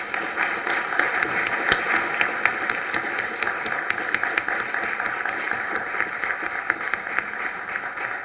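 A room claps at a city commission meeting for a proclamation, with steady, moderately loud applause of many hands that continues evenly throughout.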